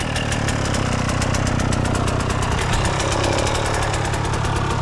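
A motocross motorcycle engine idles in neutral at a country-cross race, a loud, steady, rapidly pulsing putter that stays constant throughout.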